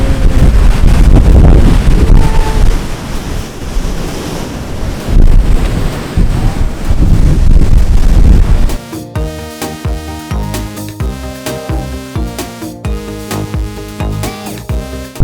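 Sea waves wash and roar near the shore in Taipei with wind buffeting the microphone, then fade as music takes over partway through.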